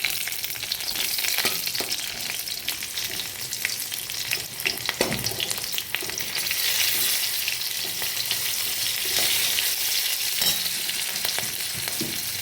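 Green chilies frying in hot oil for a greens dish, a loud dense crackling sizzle that holds steady throughout, with faint stirring scrapes mixed in.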